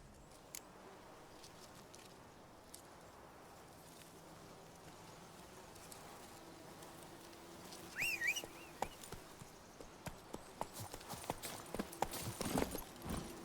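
Roach, a horse in The Witcher 3, trots with steady clip-clop hoofbeats in a quiet forest, the steps growing louder and busier toward the end over faint insect buzz.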